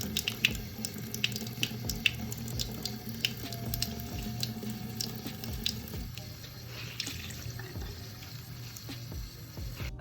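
A makeup blending sponge is rinsed under a running faucet into a sink, a steady rush of tap water with small splashes and squeezes, close and fairly quiet, with no talking.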